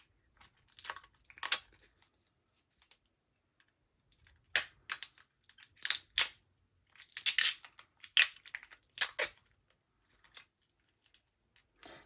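Scissors scrape and scratch across a fake wireless charging case made of light plastic, coming in short irregular bursts of gritty rasping separated by quiet gaps, close up and without talk.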